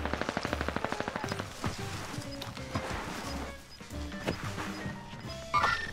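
Rapid bursts of automatic gunfire in the Warzone Pacific shooter game open the clip, followed by scattered shots, impacts and game effects in a busy, loud mix.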